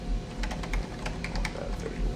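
Fast, uneven typing on a computer keyboard, a quick run of light clicking keystrokes, close and fairly quiet.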